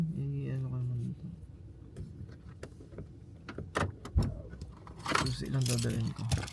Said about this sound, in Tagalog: Susi lang dadalhin ko.